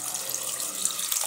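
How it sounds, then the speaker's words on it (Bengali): Water pours steadily into a pressure cooker holding figs and peeled potato pieces, a continuous close splashing hiss with no talk. "দিয়ে আমি এর মধ্যে জল অ্যাড করে দেব"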